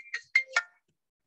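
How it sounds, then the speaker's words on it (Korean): A mobile phone ringtone sounds during a university operating systems practice class: three short melodic electronic notes in quick succession, near and clear, then silence. "잠깐 전화가 와서 죄송합니다."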